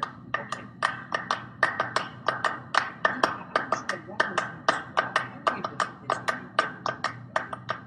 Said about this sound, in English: Clapping music. Undoubtedly the best-known piece of music written solely for two or more pairs of hands by composer Steve Reich